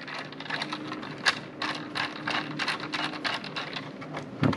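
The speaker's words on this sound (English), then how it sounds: "Now here are some small screws in these little wells, and we're gonna take all these out of there." Small screws are worked out of the wells of a Dell Inspiron 3000 laptop with a screwdriver, producing quick, close ratcheting clicks in irregular bursts, with no one speaking.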